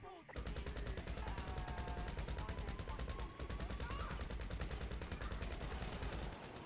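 Continuous rapid gunfire in the video game GTA 5, dense volleys of automatic shots filling nearly the whole stretch at a loud, steady level, with faint game speech underneath.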